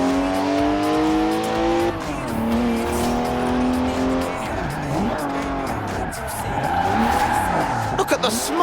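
A BMW 1M in Forza Horizon 4 revs hard while drifting, engine notes rising and falling as shifting tire squeal and skidding screech layer over it, loud and continuous.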